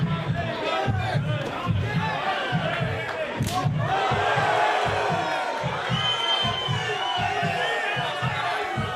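An arena crowd at a kickboxing match cheers and whoops loudly, a sustained roar of shouting voices with rhythmic low thumps underneath, steady throughout the stretch.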